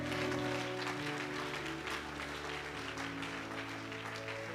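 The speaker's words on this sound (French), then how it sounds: "Acclame pour le Seigneur bien-aimé." A church congregation claps steadily and densely throughout a worship service, a sustained wash of applause over held musical tones, with no voice standing out.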